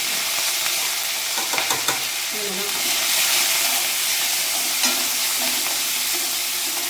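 Dried red chilies, curry leaves and coriander frying in hot oil in a pan, a steady hissing sizzle with brief stirring scrapes and clatters near the start, close and fairly loud.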